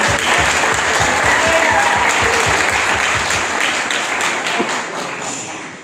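At the opening of the FICAM animation film festival in Meknès, the audience breaks into applause. The full, even clapping is loud and continuous, then gradually softens near the end.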